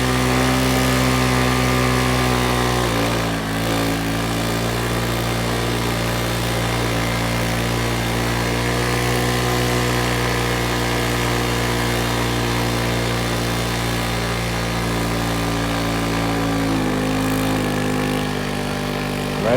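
A 125cc scooter engine droning hard under heavy load while towing a truck through its centrifugal clutch, a loud, sustained buzzing tone that wavers slightly in pitch.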